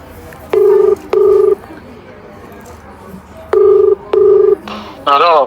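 Outgoing ringback tone for a prank phone call, two evenly spaced double rings repeated at a steady rhythm, loud and close, followed by a brief voice at the end.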